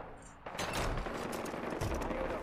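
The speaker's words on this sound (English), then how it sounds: "People are shooting a lot." Sustained rapid gunfire in the Far Cry 4 video game, dense overlapping automatic bursts and shots that start abruptly and continue loudly without pause.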